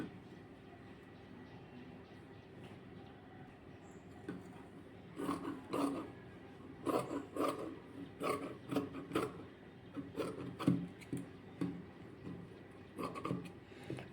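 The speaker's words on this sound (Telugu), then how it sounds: "ఇప్పుడు ఈ మార్కింగ్ లైన్ ప్రకారం కటింగ్ చేసేసుకుందాం" Scissors snip through fabric along a marked line while sleeve pieces are cut by hand, giving a series of quiet, close rasping cuts in uneven bursts that grow busier toward the end.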